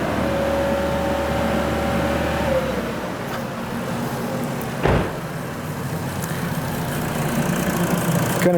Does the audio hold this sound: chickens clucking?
no